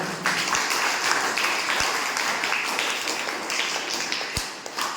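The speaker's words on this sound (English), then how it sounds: "Give a great clap for them." Students at a school language club event receive a round of applause from the audience, continuous crowd clapping with a few sharp thumps from the microphone, steady and fairly close.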